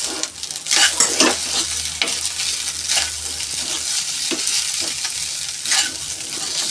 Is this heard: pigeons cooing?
no